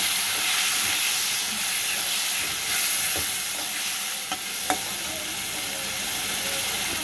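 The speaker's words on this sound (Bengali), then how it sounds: "এই সব মশলাটা আমি তেলে দিয়ে দিচ্ছি।" Ground spices fry in oil for a potato and pomfret fish curry, making a loud, steady hissing sizzle with a couple of faint utensil clicks and no speech.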